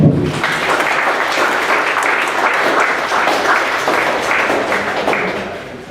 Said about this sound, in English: So let's give a round of applause to all the students that participated